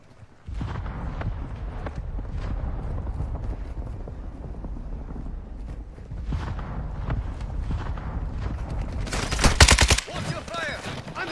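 Gunfire in the video game Warzone, with bursts and single cracks of shots rattling on and off over a steady background, building to a loud cluster of close shots near the end, as players talk throughout.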